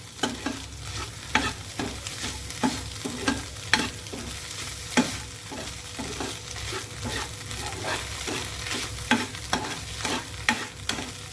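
Food is stirred and mixed in a sizzling pan at home, with a steady frying hiss underneath and repeated scraping and tapping strokes of the spoon, close and continuous, with no voices.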